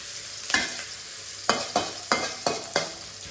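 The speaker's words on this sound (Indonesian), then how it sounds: "ini minyaknya udah panas. Kita masak bumbunya." Spice paste is stirred and fried in hot, reused fish-frying oil for a spicy noodle soup, a steady sizzle broken by five sharp scraping stir strokes, close and with no talking.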